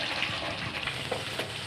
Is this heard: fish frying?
yes